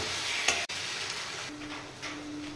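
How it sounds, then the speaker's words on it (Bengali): Spice masala cooked down with chopped tomatoes in a pan for a Bengali non-veg khichdi, a steady close sizzle with occasional stirring scrapes and one sharp knock near the start. "এবার টমেটো সহ একসাথে আবার একটু মশলাটা কষিয়ে নেব।"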